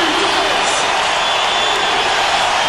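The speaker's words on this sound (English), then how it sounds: "To the crowd, as noisy as they have been in this entire contest, trying to generate more out of this run." A noisy arena crowd at a 2008 basketball playoff game 3 roars in a loud, steady, unbroken wash of sound, with a commentator talking over it.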